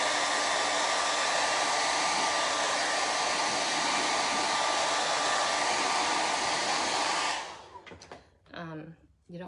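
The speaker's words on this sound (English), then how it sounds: "to speed it along, I'm going to use a blow dryer, but you can only use a cool or cold setting when you're drying a transfer" A blow dryer on its cool setting dries a craft transfer, blowing as a loud, steady whoosh for about seven seconds before cutting off, followed by brief clattering handling sounds.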